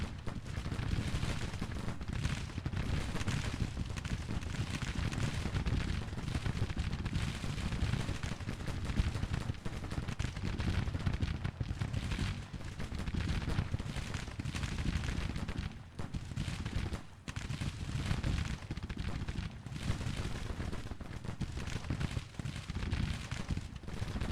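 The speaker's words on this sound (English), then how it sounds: "Still giving long-range fire into the 3rd Brigade, causing some damage there" Continuous long-range musket volleys and artillery fire from a Grand Tactician Civil War battle, 1862 Confederate campaign, forming a dense, steady roar of distant gunfire with scattered heavier booms throughout.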